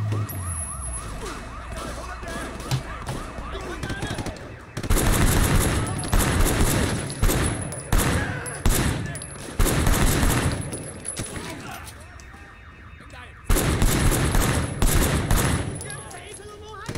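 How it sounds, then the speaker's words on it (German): Bursts of gunfire from the open-world action game Sleeping Dogs, set against a police shootout with heavily armed suspects, rapid volleys coming in loud clusters between quieter stretches, with a voice talking at times. "Da wird scharf geschossen."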